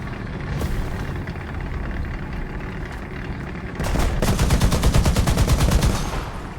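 Automatic gunfire in War Thunder aimed at an enemy tank's wheels, a rapid, loud, evenly spaced burst of shots rattling over a rumbling engine drone, starting partway through and holding for a few seconds.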